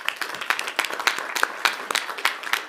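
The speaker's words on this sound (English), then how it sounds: "So I'd like to ask everybody to give Dr. Zemer a round of applause," Audience applause at an AISD school board regular meeting, a steady crowd of many hands clapping together, moderately loud and continuous for the whole stretch, with no speech over it.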